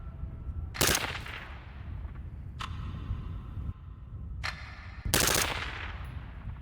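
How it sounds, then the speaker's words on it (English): A Heckler & Koch rifle fires semi-automatic shots downrange outdoors, a few sharp, loud cracks spaced irregularly with short rapid pairs, each trailing into a brief echo over low background rumble. "John, why don't you give it a couple mags out in the distance there?"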